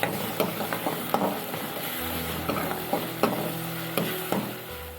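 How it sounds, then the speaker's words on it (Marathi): Finely chopped tomato fries in a pan with a steady sizzle, broken by regular scraping and clinking strokes as it is stirred, with no voices. "त्याच्यामध्ये आपण एक टोमॅटो टाकून घ्यायचा आहे बारीक चिरलेला"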